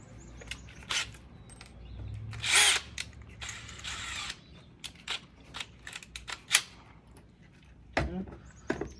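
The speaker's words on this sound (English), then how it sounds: "I'm going to drill once I hit that back part so I can get through that." A power drill works on a patio screen door frame in short, sharp bursts separated by pauses, close and fairly quiet, with clicks and handling noises between runs.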